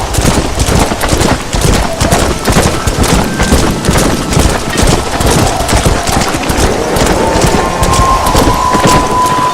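Heavy, loud rain pours continuously with rumbling thunder in a Red Dead Redemption storm, a dense, unbroken wash of sound with no voices.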